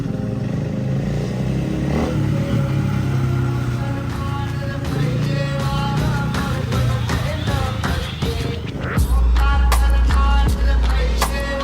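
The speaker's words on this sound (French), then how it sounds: "Oh là là, cette moto est incroyable!" A KTM 450 EXC-F dirt bike engine rumbles steadily on a rocky trail, with rattling and scraping clatter over it and a deeper, louder roar near the end as it speeds up.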